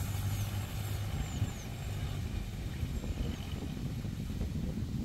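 Ford 5000 tractor towing a sugarcane leaf sweeper pulls away in third gear with its wheels spinning, a steady low diesel rumble nearby with no voices heard.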